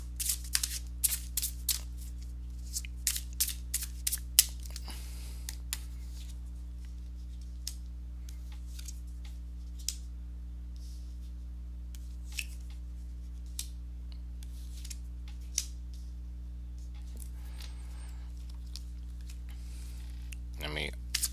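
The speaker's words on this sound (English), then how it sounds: "So let me go ahead and shuffle these cards to see what messages you will get for the month." Oracle and tarot cards are shuffled by hand, making soft riffling bursts and scattered crisp clicks over a steady low hum. The shuffling is louder at first and thins into sparse taps.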